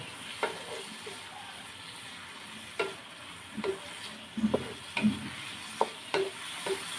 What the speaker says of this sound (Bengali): এখন আমি এগুলোকে নাড়াতাড়া দিচ্ছি আর দেখছি সিদ্ধ হয়েছে কিনা